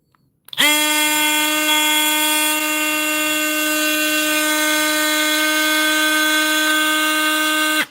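An older Dewalt XR cordless oscillating multi-tool starts up and then runs at a steady, high-pitched whine. The buzzing drone sounds close and constant and carries on alone, with no voices.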